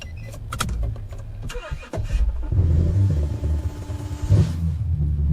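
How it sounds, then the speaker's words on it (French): A car's engine rumbles and revs up as it accelerates, preceded by clicks and knocks, with a steady loud roar building in the second half of an AI-generated video. "de voir en fait la voiture accélérer, de voir le compteur"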